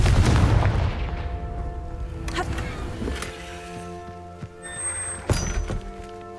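Confringo fire spell explosion in Hogwarts Legacy, a heavy booming blast that fades over a couple of seconds, followed by scattered thuds and sharp magical impact cracks.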